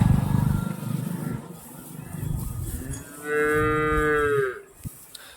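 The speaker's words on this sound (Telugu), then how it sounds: "ఈ ఆవు వచ్చేసి కంప్లీట్ రెడ్ కలర్లో ఉన్న జెర్సీ ఆవు." A red Jersey cow, close to giving birth, lets out a long, loud moo that rises and then falls away. Low rumbling noise comes before it, and a couple of faint knocks follow.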